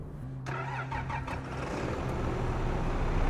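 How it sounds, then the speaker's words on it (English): A tractor engine in the video game Farming Simulator 25 cranks and catches, then settles into a steady, loud mid-pitched run with no talk over it. "This tractor's kind of big for that little"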